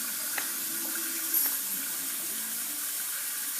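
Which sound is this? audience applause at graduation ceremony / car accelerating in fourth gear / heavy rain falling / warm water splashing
warm water splashing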